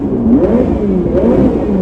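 A 2020 Ferrari F8 Tributo's turbocharged engine revs up and down in quick, loud swells, close by and clear, with no voices.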